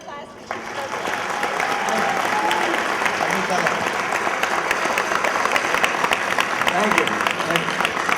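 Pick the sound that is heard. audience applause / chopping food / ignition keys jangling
audience applause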